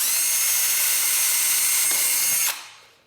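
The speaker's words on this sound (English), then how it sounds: "I'm going to drill a pilot hole that's the same diameter as the screw in the cross pieces." A power drill whirs steadily at high speed for about two and a half seconds, drilling a pilot hole in wood, then spins down and stops, close and loud with no talking.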